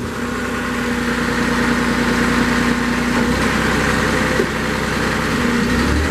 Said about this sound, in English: We're gonna go ahead and fire it up and show you a little bit of operations.